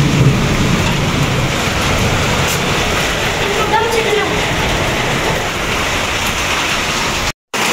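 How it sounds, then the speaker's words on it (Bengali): Heavy rain pours down in a Saudi Arabian desert area, a loud, dense, steady hiss of downpour continuing throughout, with a faint voice underneath. "প্রচন্ড বৃষ্টি"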